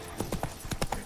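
Hooves of a horse in The Witcher 3 clip-clop in a quick, uneven galloping rhythm, about six distinct thuds in just over a second, moderately close and alone.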